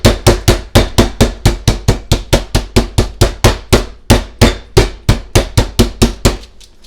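A meat mallet pounds chicken breast flat on a board in a fast, steady run of about twenty-five loud, close thuds with a brief pause midway and no talking.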